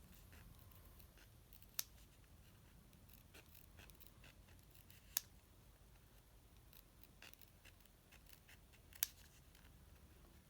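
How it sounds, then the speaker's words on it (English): Scissors cut along a traced line for a scalloped hair bow, giving steady soft snipping with three sharp, louder clicks as the blades close, all fairly quiet and close. "all you have to do is cut on top of the line that you traced out"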